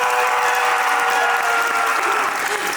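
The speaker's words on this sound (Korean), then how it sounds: "네, 큰 박수 부탁드립니다." A large audience claps loudly and continuously at a 2022 Busan International Film Festival guest talk after a screening of Broker, a dense, even wash of applause with no voices.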